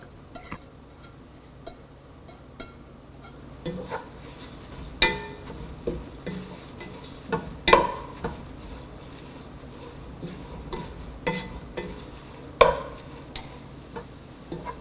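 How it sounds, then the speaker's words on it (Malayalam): Drumstick leaves sauté in a pan while being stirred, with soft sizzling under intermittent scraping and clinking spoon strikes against the pan, fairly quiet and close. "ഇതിലോട്ടിനി നമ്മൾ ക്ലീൻ ചെയ്ത് അടർത്തി വെച്ചിരിക്കുന്ന മുരിങ്ങയിലയിട്ട് വഴറ്റുക."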